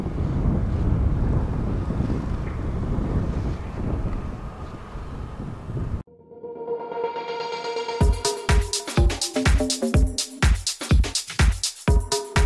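Strong wind buffets the microphone at Boca Chica, Texas, a steady loud roar for six seconds before the sound cuts to quiet and then a run of sharp, repeated tonal hits.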